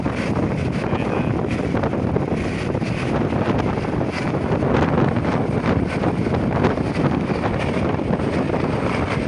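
A helicopter comes in to land, its rotor and engine producing a loud, steady, broadband roar with heavy wind buffeting that fills the whole stretch without letting up. No voices stand out.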